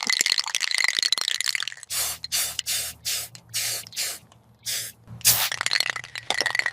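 Cleaning spray hisses onto the engine of an abandoned classic sedan under restoration, in several short bursts of a second or less, close and loud, between stretches of crackling and rattling noise.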